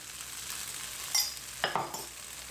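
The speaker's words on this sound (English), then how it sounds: "Give it a quick mix." Meatball sauce with a teaspoon of garlic gets stirred in a pan under a faint sizzle, with a few brief scraping strokes toward the end; no speech.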